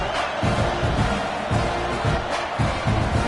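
Stadium crowd at a college football game, Texas A&M against USC, a broad steady roar of many voices with soft rhythmic swells of chanting underneath, fairly loud and continuous.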